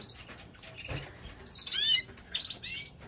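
Canaries chirp and tweet in quick, bright bursts, close by, with a faint flutter and some quieter calls between.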